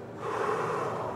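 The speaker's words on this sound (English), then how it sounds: "Breathing in through the nose," A single deep inhale through the nose during a workout hip stretch, soft and close, lasting about a second with no talking.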